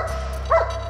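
An airport sniffer dog, agitated by a suspicious suitcase, lets out one short bark over a steady low hum of the baggage area, moderately close, with no talking.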